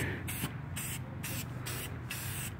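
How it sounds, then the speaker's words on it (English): Several short bursts of aerosol spray hiss, separated by brief pauses, close and fairly steady, with no talking. "This back's not visible, but I'll spray it anyways."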